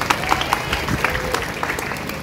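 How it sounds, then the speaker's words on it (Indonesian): Brief, scattered clapping from an audience at a village religious sermon gathering in Desa Cenggini, a loose patter of individual claps over a low murmur, fairly faint and short. "Tepuk tangan"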